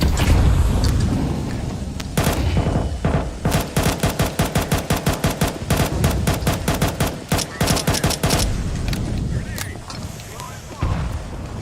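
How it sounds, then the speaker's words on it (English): Rapid automatic gunfire rattles in a video game shooter, with bursts of closely spaced shots and heavy booms that suggest a grenade blast. Talk runs over the shooting and the clip ends in a quieter stretch. "I'm throwing a grenade."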